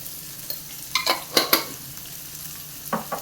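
Onions with turmeric powder sautéing in a pan for a Kerala brinjal mezhukkupuratti: a soft frying hiss with a few clustered scrapes and stirring clinks, close and fairly quiet, with no voices.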